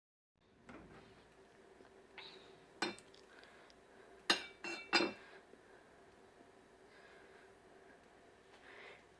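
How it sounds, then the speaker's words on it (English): Peanuts for microwave peanut brittle are dropped into a bowl, giving a few sharp, separate clinks and clatters against a quiet room background, soft overall with no talking. "So go ahead and put the peanuts in, Ari, in the bowl"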